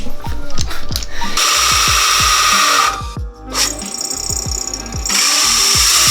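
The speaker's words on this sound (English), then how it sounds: "This hole saw bit didn't fit on the regular drill, so we're using this drill press." A drill press motor spins up and runs steadily with a hole saw grinding, briefly stopping, then cutting again; rhythmic thumps underneath, loud and close, during a camper van build.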